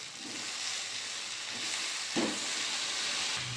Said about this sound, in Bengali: ভালো করে সব একসাথে কষিয়ে নেব।